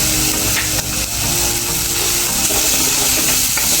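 Spices such as red chilli powder, garam masala and coriander powder sautéing on low heat in a pan, a loud continuous sizzle close up with scraping stir strokes running throughout.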